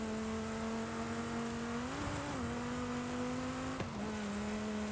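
Engine of a tuned Baja cross-country buggy in Forza Horizon 5 droning steadily at high revs, easing off briefly and climbing again, with a short dip and recovery near the end; close and continuous, no talk.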